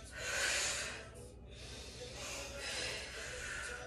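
Audible breathing during a Pilates exercise with props: a sharp inhale then a softer, longer breath, close and quiet, with no clear talking.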